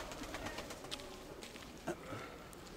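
Racing homing pigeons coo softly at a loft as dusk falls, several low repeated coos over a steady background hiss, fairly close and without speech.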